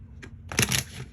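A quick riffle of tarot cards being shuffled close by, a soft tap and then a brief papery flutter.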